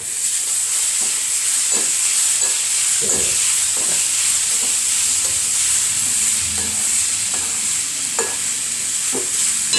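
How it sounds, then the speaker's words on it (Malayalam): Food fries in a pan in a home kitchen with a loud, continuous sizzle, while a spoon stirs it in irregular scraping strokes close by. No one speaks. "നമുക്ക് നന്നായിട്ട് ഇളക്കി കൊടുക്കാം കേട്ടോ"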